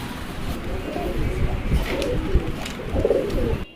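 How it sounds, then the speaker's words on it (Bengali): Young racing pigeons at a pigeon dealer's coo softly and repeatedly nearby, their low, rolling calls overlapping amid gentle rustling and faint background sounds. "এখানে খুবই সুন্দর ভালো মানের কিছু রেসার কবুতর আছে"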